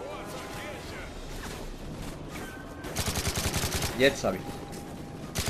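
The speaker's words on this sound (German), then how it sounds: "Und wird wieder von allen Seiten auf uns geschossen." Rapid gunfire from all sides in Call of Duty: Modern Warfare 3, with steady automatic bursts under someone speaking German, growing louder and denser midway, plus a sharp impact near the end.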